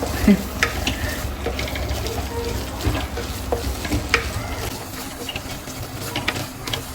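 Drumstick flower curry stirred in a frying pan, a steady soft sizzle with irregular spoon scrapes and knocks close by.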